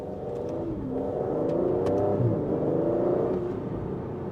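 An Aston Martin Vantage V12 Roadster driving with the roof up, its engine droning and rising through the revs from inside the cabin, steady and fairly loud with mechanical whir underneath.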